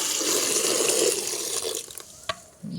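Water is poured steadily to soak vegetable scraps as plant feed. The continuous splashing pour tapers off and stops, followed by a small clink and a soft knock.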